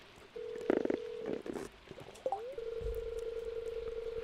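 A Stardew Valley telephone gives a few short electronic beeps and chirps, then settles into a long, steady, faint tone.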